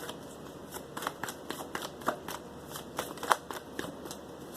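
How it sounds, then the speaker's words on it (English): Cards are shuffled in a steady series of quick riffling snaps, close and fairly soft, with no talking. "Give it a quick shuffle, and I'm going to cut the deck today"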